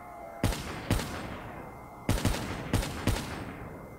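Sniper rifles in a zombies video game fire five separate loud, booming shots at irregular intervals. Each shot rings out with a long echoing tail, and no one talks.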